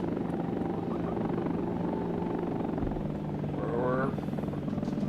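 Helicopter rotor and engine drone from a Hind gunship in the Air Missions: HIND game, a steady loud hum holding throughout, with a brief rising tonal whine near the end.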